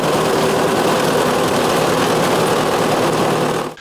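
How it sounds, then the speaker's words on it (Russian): A road-service tractor cuts wild cannabis in a field, its engine a loud, steady drone with a constant rumble that holds throughout and then cuts off abruptly at the end. "Трактор скашивает опасный урожай."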